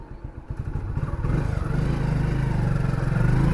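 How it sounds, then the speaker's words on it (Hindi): A motorcycle pulls away on a Delhi street, its engine clattering near at first, then revving up and settling into a louder, steady running drone as it rides off. "चल दिए हम अपनी बाइक से"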